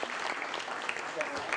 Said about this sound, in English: Let's give all these anglers a round of applause.